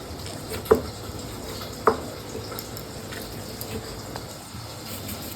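Stingray fish frying in a pan, a soft steady sizzle under low kitchen background, broken by two sharp clinks of a utensil against the pan.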